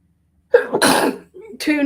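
A single sharp sneeze bursts out close by, followed by a short breathy sound and a brief spoken reply.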